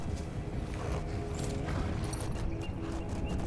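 Horse hooves clip-clop in Skyrim, a steady, fairly close run of hoofbeats over a dense game soundscape, with no one talking.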